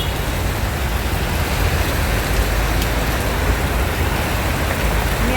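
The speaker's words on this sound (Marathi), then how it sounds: "पाऊस बघा किती पडतोय, दिसतोय का?" Heavy rain pours steadily near Dombivli station, a dense, loud, unbroken hiss with no talking.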